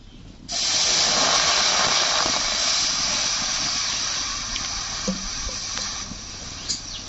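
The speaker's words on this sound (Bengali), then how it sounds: "কড়াইটা দিয়েছি, কড়াইতে দিয়ে দেবো 1 কাপের মতন জল।" About one cup of water poured into a hot wok, a sudden loud hiss of steam that bursts in after half a second and holds steady, slowly easing, with faint clinks near the end.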